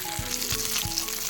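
Pieces of fish frying in hot oil, a dense continuous sizzle with a few soft thuds, close and steady.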